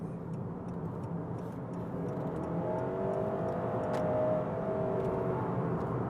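A 2020 Honda Accord 2.0 Hybrid car accelerates on the road, heard from inside as a steady whirring drone that swells gradually, with wind and tyre noise beneath.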